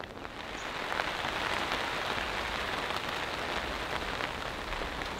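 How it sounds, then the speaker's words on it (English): Heavy rain pours steadily onto an Alps Mountaineering Stealth 1 bivy tent, a dense, continuous hiss of drops drumming on the fabric at close range with no voices. "The intensity has really picked up, and it's raining quite hard at the moment."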